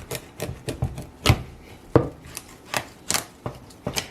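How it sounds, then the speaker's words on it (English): A sharp knife chops through a butternut squash on a cutting board, with a series of irregular woody thuds and knocks, fairly quiet and close, with no voices. "you get that knife in there, like the tip of the knife"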